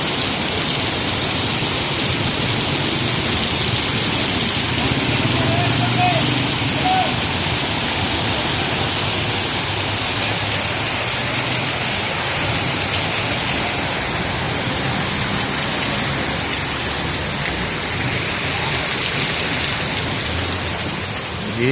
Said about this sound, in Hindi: किस तरह बारिश हो रही है, एंजॉय कर रहे हैं लोग।